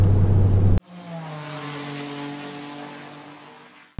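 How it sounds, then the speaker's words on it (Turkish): A Peugeot 208 GTI with a high-compression turbocharged engine holds a loud, close rev after a sharp cut-in, its tone swelling and then easing away before a sudden loud burst at the very end. "Direkt neyse motor sesi onu alıyorsun yani."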